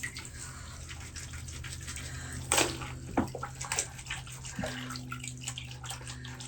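Water sloshes and splashes in a basin while crochet clothing is washed by hand, a close, continuous wet swirling with a few sharper splashes and faint dripping, no talking.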